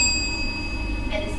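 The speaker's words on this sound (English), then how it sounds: "the bell will ring once at the first and the 6th minute." A debate timer bell rings once during a university debate semi-final, leaving a clear metallic tone that hangs and slowly fades over a low room hum.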